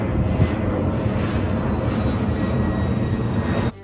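A low-flying airplane passes overhead near an airport, its loud, steady engine roar filling the air close by before cutting off abruptly at the end.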